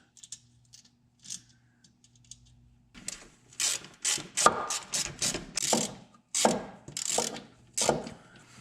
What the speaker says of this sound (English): so we can start installing our mounting bolts